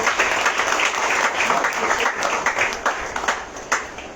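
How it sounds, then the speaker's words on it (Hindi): Audience applauding prize winners at a Sunday church worship service, a steady, dense wash of many hands clapping that continues throughout, with a few louder individual claps standing out near the end. "जोरदार तालियां बजाएंगे चेतना के लिए"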